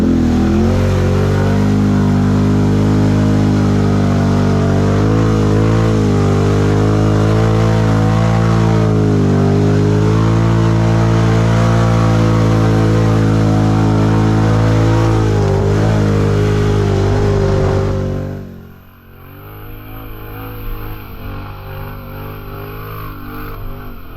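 A 2022 Can-Am Renegade 650 XMR ATV engine held at half throttle, a loud steady revving drone with strong low harmonics for about eighteen seconds, then dropping abruptly to a quieter idle.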